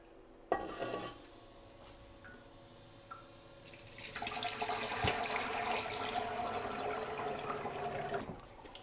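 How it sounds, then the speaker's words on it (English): Bone broth made from rabbit or chicken bones poured into a strainer at a kitchen sink: a steady rushing splash of liquid that builds after a few seconds and runs continuously, preceded by a few clinks of pot against metal. "Now I'm going to take it over to the sink and strain it."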